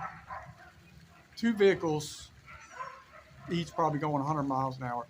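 Someone speaks while dogs bark in the background, faint at first and then close, yelping bursts overlapping his voice.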